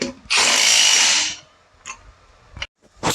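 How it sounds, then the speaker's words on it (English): A power tool tightens the lug nuts on a Jeep wheel, with one loud sustained whirring burst followed by shorter clicks and a final brief zip, close and alone. "Now I learned my son to use a star pattern when tightening on his lugs."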